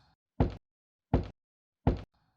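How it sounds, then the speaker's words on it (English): Three slow, hollow, deliberate knocks spaced evenly apart, each a short dull thud in near silence, from an eerie twilight-style audio scene. "3 slow knocks, hollow, deliberate."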